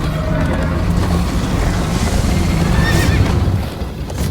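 A horse whinnies in the Minecraft Story Mode video game during a chase, the call rising over steady dense rumble and bustle, loud and close, with no talk over it.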